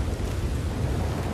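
Steady rain with a low rumble of thunder in Red Dead Redemption 2, a dense, continuous wash of noise heard close and alone without any voices.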